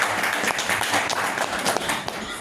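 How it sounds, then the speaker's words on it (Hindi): A small group at an indoor home meeting claps to welcome two new members, a brief, fairly close patter of applause with some voices mixed in. "एक बार ताली बजा करके हम लोग स्वागत करते हैं"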